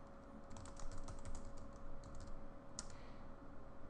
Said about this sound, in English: I'll just type in my own name.